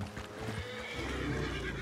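A horse in the Western video game Red Dead lets out a loud, close whinny that rises and trails off, with hoof clip-clop beneath and no voices over it.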